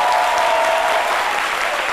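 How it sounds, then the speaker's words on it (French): A television studio audience on a French midday show applauds loudly and steadily, a dense wash of clapping with no talk over it. "On les applaudit très fort"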